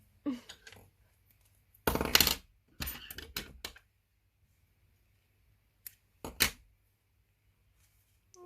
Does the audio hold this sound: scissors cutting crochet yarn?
yes